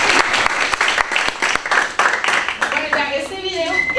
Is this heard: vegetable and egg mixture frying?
no